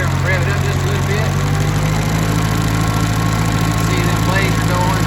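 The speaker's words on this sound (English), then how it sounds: "I'm gonna rev it up just a little bit." A blueberry pruning cutter's engine runs loud and steady as it is revved up slightly while cutting through plants, a constant droning hum close by with a voice talking over it.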